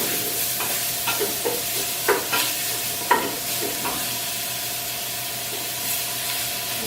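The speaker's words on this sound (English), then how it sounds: "we're just stirring to make sure that we're not sticking too much. It's still browning in the pot." Ground beef browning in a pot over low to medium-low heat is stirred steadily, with a soft continuous sizzle and intermittent scraping clicks of the spoon against the pot, close and fairly quiet.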